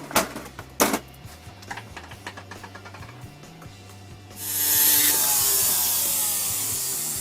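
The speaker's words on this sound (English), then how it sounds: "cut the old tube off" An old worn tube is cut off with a tool, giving a few sharp close cuts and snips followed by a sustained louder hiss-like rush toward the end.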